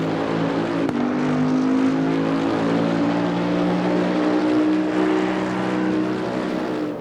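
A Bentley GT race car engine in Assetto Corsa Competizione drones loud and steady, its revs sweeping and holding with a strong, continuous growl and no talk over it.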